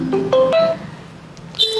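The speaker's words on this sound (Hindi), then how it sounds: "भाभी का फोन।" A mobile phone plays a short melodic ringtone indoors, a few bright electronic tones rising and stepping in pitch, loud and close with no talking.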